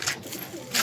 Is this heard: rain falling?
no